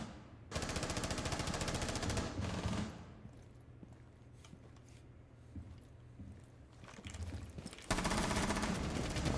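Bursts of rapid automatic gunfire ring out in a Halloween-themed shooter video game, loud and sustained at the start and again at the end, with a quieter gap of scattered shots between.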